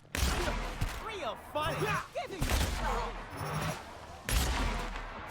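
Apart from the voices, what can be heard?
ice gun firing in The Outer Worlds video game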